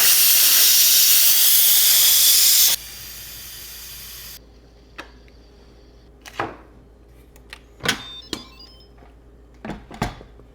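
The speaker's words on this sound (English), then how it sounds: "do a quick release of the steam" An Instant Pot vents its steam in a quick release after cooking chicken tortilla soup, a loud close hiss that drops in level and then stops, followed by scattered clicks and knocks of handling.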